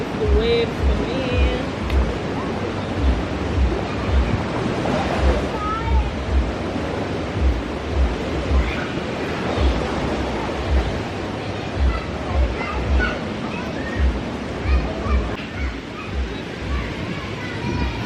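Ocean surf on a Costa Rica beach, steady broadband wash with rhythmic low thumps and wind buffeting the microphone throughout, with no clear speech.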